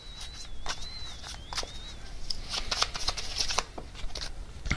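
Tarot cards are shuffled and drawn with quick, close riffling and flicking in steady bursts. A faint bird chirps in the background.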